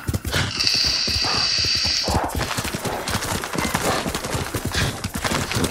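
A horse gallops in the video game Ghost of Tsushima, its rapid, steady hoofbeats running throughout over a dense game soundscape, with a sustained high tone in the first two seconds.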